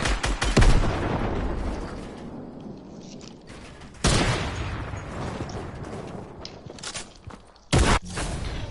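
Gunfire in Fortnite, with a headshot among the shots. Sharp, loud reports land at separate moments over a busy background of game noise, and no one speaks over them.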